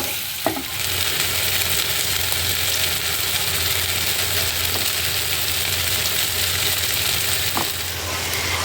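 Whole spices crackle and sizzle in hot oil for a dal fry tempering, a steady close frying hiss with a soft stir or clink now and then, no voices.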